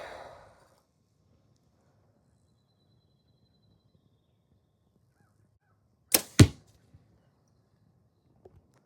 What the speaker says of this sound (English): these arrows shoot pretty good out of his bow